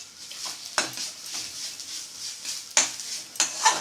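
Besan (gram flour) roasting in oil in a pan over a low flame, a soft continuous frying hiss broken by repeated scraping strokes of a spatula and a few light metallic clinks.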